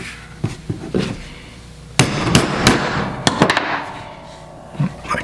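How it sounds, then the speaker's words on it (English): A hammer drives a punch through two layers of leather for a motorcycle solo seat, giving a series of sharp, close knocks: a few lighter taps, then several hard strikes with short pauses between them. "hit it with a hammer"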